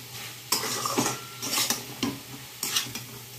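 Spices stirred with a utensil in a hot pan on high flame, each scrape and clink of the stirring coming in sharp bursts about every half second over a low steady hum, close and fairly loud.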